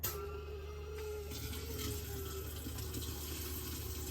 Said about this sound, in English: You can hear the water coming out of it.